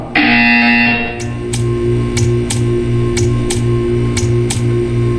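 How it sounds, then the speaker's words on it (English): A loud electronic buzzer tone sounds at first in the video game Portal 2, then gives way to a droning hum broken by a regular series of sharp ticks. "You will hear a buzzer."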